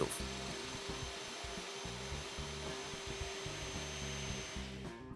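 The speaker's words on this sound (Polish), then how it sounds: "młotowiertarka wyposażona w osłonę przeciwpyłową połączoną z odkurzaczem akumulatorowym Makita wywierciła czysto otwór wiertłem SDS plus 10 mm" Makita HR010G cordless hammer drill boring a hole with a 10 mm SDS-plus bit, its dust shroud hooked to a Makita cordless vacuum; a loud, steady hammering whine over a constant vacuum hiss, close by and ending abruptly.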